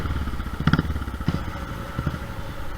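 A revved, fully modified Royal Enfield Thunderbird 350 motorcycle engine rumbles loudly up close, with a few sharp throttle blips and crackles over a steady low idle.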